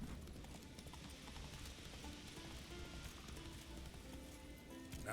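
Roach, the horse in The Witcher 3, gallops at a fast, even hoofbeat rhythm, fairly quiet and set against a dense wash of outdoor game ambience.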